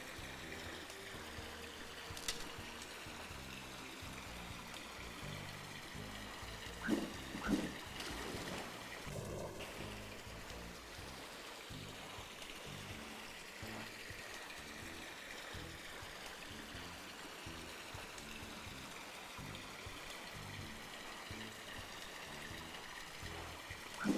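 Steady rushing water of a water slide in Ty the Tasmanian Tiger, a continuous close stream-like flow with a few brief splashy bumps, no talk over it.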